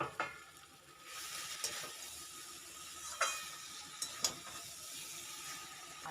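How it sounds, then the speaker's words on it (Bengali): A quiet, low sizzle of drumstick and potato pieces cooking with spices in a pan, with a few soft scraping stirs and light clinks rising over the gentle hiss. "তো দেখো ডাঁটা আলুটা ভালো করে মিশিয়ে নিয়েছি"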